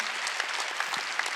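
A church congregation claps together in a brief, dense burst of applause, steady and fairly close, lasting just over a second with a few sharper individual claps standing out.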